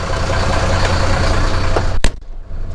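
A car engine with a straight-through exhaust idles with a low, steady rumble, close and loud, before a sharp click and a brief dip in the noise.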